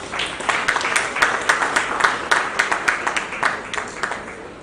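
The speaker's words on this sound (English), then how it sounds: "Shall we please welcome her with a round of applause?" An audience applauds at a police hospital co-operative credit union gathering, a steady dense round of clapping that holds at an even level for several seconds with no voices.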